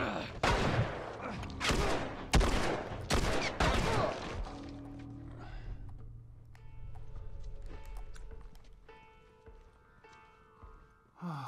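Gunfire in the survival action game The Last of Us: a rapid burst of loud, sharp shots ripping in close succession over the first few seconds, then giving way to a quieter low hum and scattered clatter.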